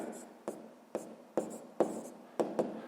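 Pen or pencil writing math by hand on paper in a sixth-grade exercise, with several short scratchy strokes and taps spaced through the clip, close and fairly quiet, with no talking.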